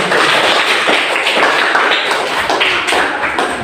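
A class of students clapping their hands together in a classroom, a dense, steady patter of many hands sustained throughout at close range.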